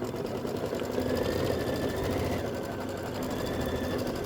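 An embroidery machine stitching a quilt block runs with a steady, fast mechanical whir and needle chatter, close and continuous with no talk.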